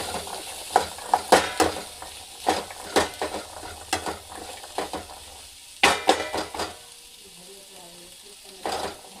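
Coriander being stirred into a sizzling pan of frying food, with a spoon scraping and clattering in repeated bursts over a steady crackle and a brief lull near the end.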